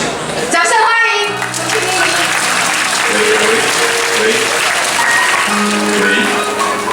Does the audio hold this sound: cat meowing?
no